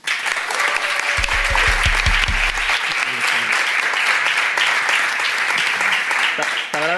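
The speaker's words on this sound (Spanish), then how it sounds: "Aviam, aplaudiments." Studio audience applause on a live entertainment show, loud sustained clapping throughout with a few low thumps and voices briefly rising over it near the start and end.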